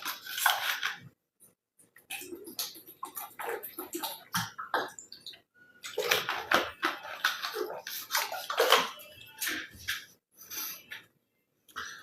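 A man drinks water in a string of close sloshing, gulping and clinking sounds broken by brief silences, with no speech.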